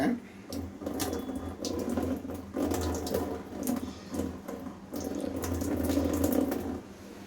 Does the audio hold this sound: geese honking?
no